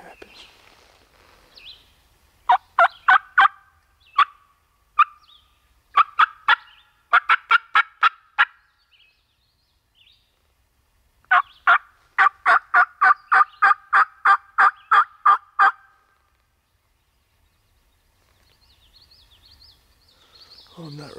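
Wild turkeys gobble in a field in repeated bursts, each a rapid rattling series of calls, fairly close and clear against quiet surroundings, with long pauses between volleys.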